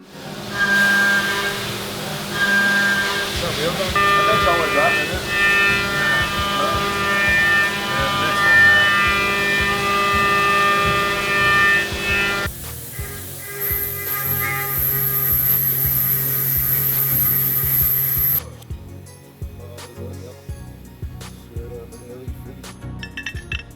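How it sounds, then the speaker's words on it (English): Machining motorcycle triple clamps for BMW R9T forks on a R75/5 build: a steady loud mechanical hum with tonal whine and metallic clinking, changing character midway and dropping away near the end. "here we're machining the triple clamps for this, for the R9T forks"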